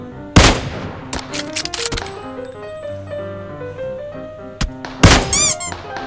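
Bursts of gunfire in the mobile battle-royale game PUBG Mobile, a few loud sharp shots spread across the span with game music and effects running underneath.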